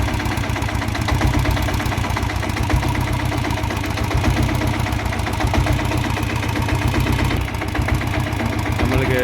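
A diesel Royal Enfield Bullet with a battery charging fault runs steadily up close, its loud engine thrumming continuously with a slight rise and fall as it is revved, and a brief dip near the end.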